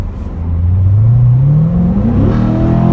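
A Corvette sports car engine revs up loudly and steadily, its pitch climbing smoothly as it accelerates, heard close and alone.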